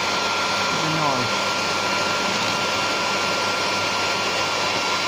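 A hair dryer blows steadily and loudly to clean a Queen guard, a constant whooshing hum throughout with no break.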